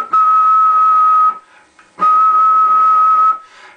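A person whistles a steady single tone into a radio microphone for an AM transmission test, two loud sustained whistles of about a second each separated by a short pause, heard through the radio with faint background noise.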